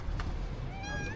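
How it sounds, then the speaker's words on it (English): A street cat in Morocco meows once near the end, a faint rising call over steady low outdoor background noise. "These seem to be very well fed street cats"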